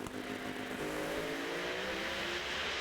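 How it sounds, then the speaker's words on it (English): Pro Mod drag race cars, a blown car and a turbo car, roar down the strip in a steady, loud engine wail that holds for a few seconds with a slowly falling pitch, no talk over it. "but here comes the turbo car in a great drag race."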